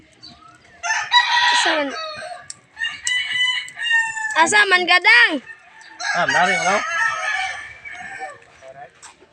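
Roosters crow and hens cluck in a rural Filipino farmyard at morning, several loud rising crows in sequence with clucking between, while people talk nearby.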